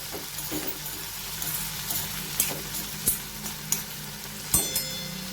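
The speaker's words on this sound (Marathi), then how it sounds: "कांदा आणि टोमॅटो आपले व्यवस्थित शिजत आहे" Onion and tomato sizzle and fry in a pan on an iron griddle while they are stirred, giving a steady low crackle with a few sharper clinks of a utensil. No one speaks.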